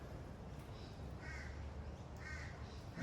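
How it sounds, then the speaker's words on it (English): Crows caw outdoors in a few separate bursts of harsh calls, fairly distant and faint over a low steady background hum. "even the crows saying hello"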